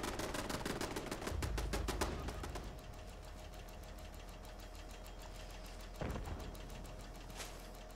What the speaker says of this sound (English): Why is there still guns a-blazing?